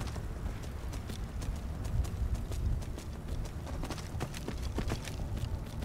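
Horse hooves clop steadily in a fast, rhythmic gait in the video game Skyrim. The hoofbeats are fairly crisp over a low rumbling bed and stay continuous throughout, with no talking.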